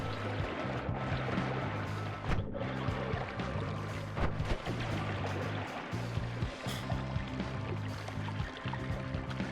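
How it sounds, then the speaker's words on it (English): Steady rush of flowing water in the pixel-physics game Noita, a dense continuous wash with low game-music tones underneath and brief dips, loud and close throughout. "Christ, it's a lot of water"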